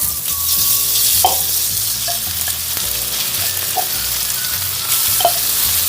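Rice fries for sinangag in a pan with a steady, close sizzle, broken by a few scrapes and clinks of stirring and no talk.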